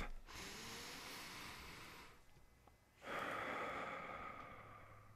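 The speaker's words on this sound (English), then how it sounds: "A lot of times it's as simple as just taking a deep cleansing breath." A deep cleansing breath, drawn in slowly and then let out in a long, audible exhale, close up and alone with a short pause between the two.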